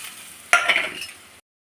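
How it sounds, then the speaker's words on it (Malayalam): Spice powders hit a pan of browned onions for a fish curry, setting off a sudden loud sizzle with quick stirring scrapes that fades over about a second before stopping abruptly. "ഇനി നമ്മൾ ഈ പൊടിയെടുത്ത് അതിനകത്തോട്ടിട്ടൊന്ന് വഴറ്റിയെടുക്കണം."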